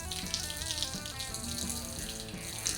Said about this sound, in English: When you're done with your brush, simply rinse it out, get the soap out of it,